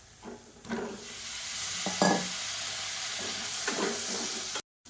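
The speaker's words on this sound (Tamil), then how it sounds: "காலிஃப்ளவர் சேர்த்து நல்லா வதக்கி விட்டுட்டு அரைச்சி வச்சுருக்க அந்த பேஸ்ட்டையும் சேர்த்துக்கலாம்." Cauliflower sautés with garam masala in a hot pan, a steady sizzle broken by several scraping, clattering stirs of a spoon across the pan.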